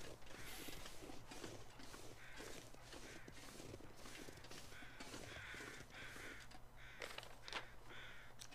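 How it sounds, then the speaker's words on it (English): Crows caw repeatedly in The Long Dark, several harsh calls from a short distance, spread irregularly over a dense, steady background of wind and mechanical creaking, with no speech. "Crows seem to be doing all right."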